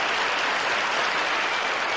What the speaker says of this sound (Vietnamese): Vâng, một tràng vỗ tay cho Khúc Yêu Thương.